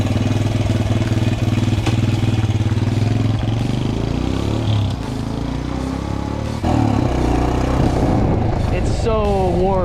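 A pit bike engine runs loud and close during a wheelie, holding a steady buzzing drone before the pitch shifts and climbs in short rising sweeps near the end.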